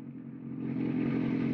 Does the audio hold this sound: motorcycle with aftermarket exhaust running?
yes